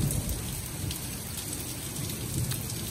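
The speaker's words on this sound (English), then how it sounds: "Welcome summer rain in Southern California with thunderstorms." Steady summer rain hisses and patters densely on surfaces in Southern California, with low rumbling undertones of a thunderstorm beneath the continuous downpour.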